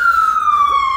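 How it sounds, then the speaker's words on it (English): Fire truck siren wailing outside an apartment, a loud steady tone slowly sliding downward as it passes. "Yes, that is the sound of a fire truck, not an ambulance."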